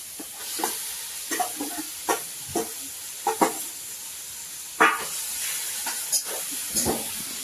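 Roasted eggplant is stirred into a hot pan over a clay stove, with a steady sizzle beneath irregular scraping strokes and clatters of the spoon, close and fairly loud.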